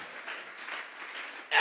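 A congregation applauds during a Sunday church service, giving steady, moderately loud clapping from a crowd that ends in a sudden louder burst at the close.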